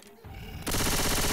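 Rapid automatic weapon fire in a team shooter game, a loud dense rattling burst that kicks in abruptly after quieter background sound.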